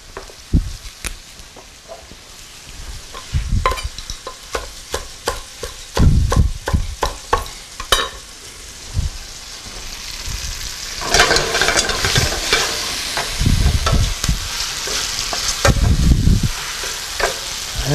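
Pizza dough fries in a pan, a steady sizzle with stirring and scraping clatter in the first half, then a louder, denser hiss of frying through the second half.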